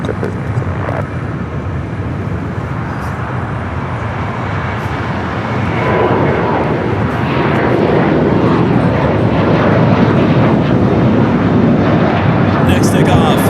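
An Alaska Airlines Boeing 737 MAX 9 jet takes off from Los Angeles airport, its broad engine roar building steadily and filling the clip, loud and continuous, with a voice briefly heard over it.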